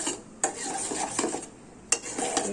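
A spoon stirs pizza sauce sweetened with sugar in a pan, giving soft scraping and clinking strokes with a few sharper knocks against the metal, close by and fairly quiet.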